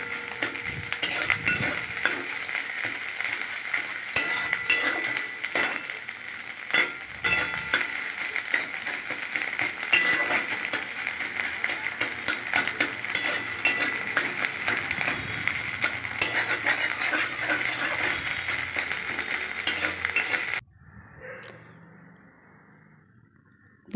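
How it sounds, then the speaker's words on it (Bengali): Egg being scrambled into crumbles in a hot pan gives a continuous loud sizzle with frequent scraping and tapping of a utensil against the pan, close up, then it abruptly drops to a faint hiss near the end, no talking. "ডিমটাকে ভালো করে ঝুরি করে নিলাম।"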